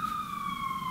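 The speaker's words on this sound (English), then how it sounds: "I'll wait for the ambulance to go past." Ambulance siren on a street, a sustained tone gliding slowly downward as the vehicle passes by, clear and fairly close over low background rumble.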